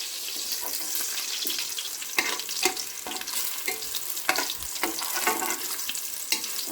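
Onions fry in hot oil for a mutton pilau, a steady bright sizzle with intermittent scraping stir strokes and a few watery splashes, close and continuous without any voices.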